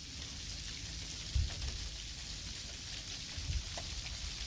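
Freezing rain falling outdoors during a blizzard, a steady hiss of drops pattering on surfaces throughout, with a couple of brief low thumps along the way.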